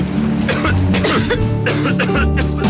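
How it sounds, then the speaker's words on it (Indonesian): A person coughs repeatedly in harsh, throaty bursts, several coughs in quick succession with a bit of throat clearing, close and loud. "Namun, batuk bisa menyerang kapan saja."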